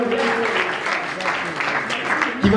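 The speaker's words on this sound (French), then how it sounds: "Sur vos applaudissements" Audience applause at an awards ceremony, a dense, steady clapping wash filling the whole clip at close range with a brief louder burst near the end.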